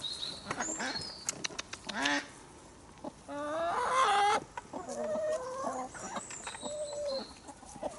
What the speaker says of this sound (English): Come and look at our chickens.